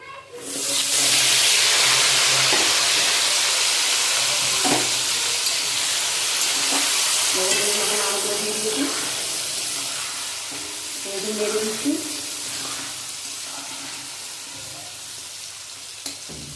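Whole green chillies and raw mango pieces hit hot oil with five-spice seasoning, salt and turmeric for a tangy mango pickle, bursting into a loud, close sizzle and hiss that slowly settles into steady frying with occasional spatters and stirring.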